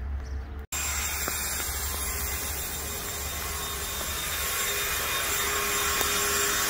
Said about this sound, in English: You gonna put your whippersnipper on it?